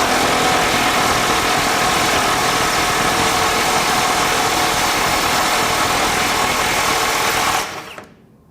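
A FLEX FX1471 high-torque impact wrench hammers continuously at its 1,200 ft-lbs setting to break a fastener loose, a loud, dense buzzing rattle that holds steady for over seven seconds before cutting off abruptly into quiet.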